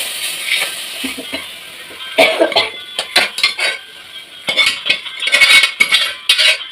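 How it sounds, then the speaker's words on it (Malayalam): Chickpea curry with curry leaves being stirred in a pot, giving irregular scraping and clinking strokes of a utensil against the metal, fairly close and with no talking. "ഇളക്കി കൊടുക്കട്ടെ നിങ്ങൾക്ക്"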